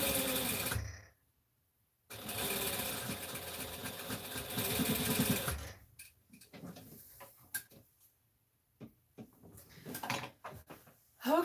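Sewing machine stitching the side pieces of a Butterick 4790 garment, running in two sustained bursts with a pause between, followed by scattered handling clicks and quieter gaps.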